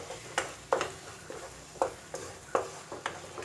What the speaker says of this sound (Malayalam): ഇത് നന്നായിട്ട് നമുക്ക് ഇതിലിട്ടിട്ട് ഒന്നോട് വഴറ്റിയെടുക്കാം.